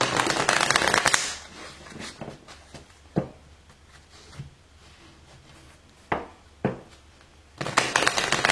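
Oracle cards are shuffled by hand, with bursts of rapid riffling at the start and end and scattered soft card slaps and taps in between, close and fairly loud.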